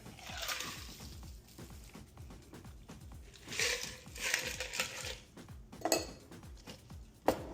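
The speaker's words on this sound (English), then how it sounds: "So we'll just grab our chilled glass, double strain." Cocktail being double strained into a chilled glass, with liquid pouring and ice rattling against metal and glass in clinking bursts, close and moderately loud, no talking.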